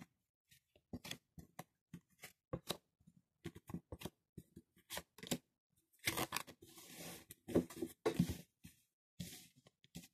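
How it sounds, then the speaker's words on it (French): Tarot cards being spread across a table, heard as a rapid run of close, crisp card slaps and slides. The sound grows into a denser shuffling rustle toward the end. No voices are heard. "Je vais étaler les cartes. Je vais en tirer 5."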